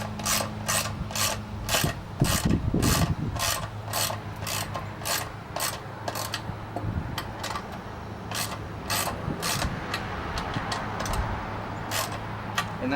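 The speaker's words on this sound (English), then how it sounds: "you can use a ratchet. Ratchet seems to work pretty good" A ratchet tightens bolts on the legs of a beehive stand, giving a close, rhythmic series of rapid clicking strokes repeated evenly throughout, with faint rubbing underneath.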